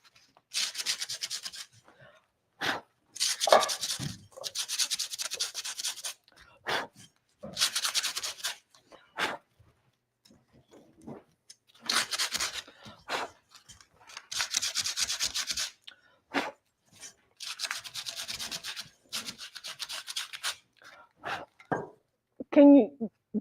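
Hand sanding of paint off a vintage metal French tart tin with 150 grit sandpaper, repeated bursts of dry scratchy rubbing strokes in short irregular runs, close and fairly quiet.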